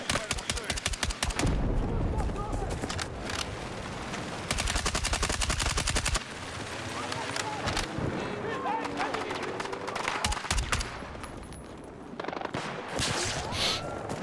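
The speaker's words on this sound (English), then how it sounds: "You're shooting at me." Rapid bursts of automatic gunfire and single shots from a video game shooter crackle almost nonstop, loud and close, with a player talking over the shooting.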